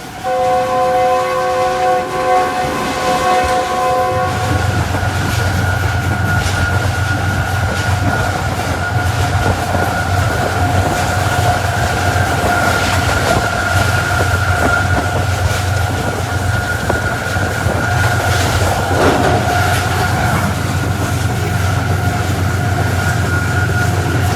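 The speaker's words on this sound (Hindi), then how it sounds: "दोनों ही ट्रेन अपनी मैक्सिमम रफ्तार के साथ पास हुई हैं।" Two express trains, one the Tezgam Express, pass each other at full speed. A horn sounds at first, then a loud, sustained roar of rushing wheels and rattling carriages goes on without a pause.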